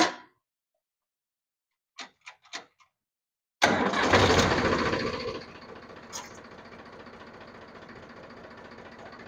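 A Powertrac tractor engine under hydraulic repair fires up abruptly after a few metallic clanks, roaring loudly at first and then settling into a steady, close idle.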